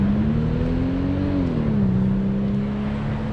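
A Toyota Supra with an automatic 2JZ engine hums steadily nearby, its tone rising slightly and then dropping as it shifts or eases off, running alone without talk.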